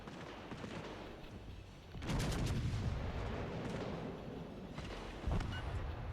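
Warship guns fire in the naval video game World of Warships: Legends, with heavy booming salvos over a constant rumbling background and a sharper blast near the end.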